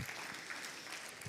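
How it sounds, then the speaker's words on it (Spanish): A church congregation applauds, a soft, continuous patter of many hands clapping at a distance, fairly faint and brief. "Aplauso na Jesus."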